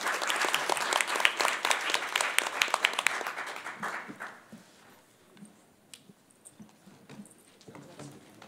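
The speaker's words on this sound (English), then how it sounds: "let's give a round of applause to our panel today." Audience applauding a panel at a presentation on community-based programming to reduce recidivism, a dense burst of clapping that fades after about four seconds, leaving scattered claps and faint room noise.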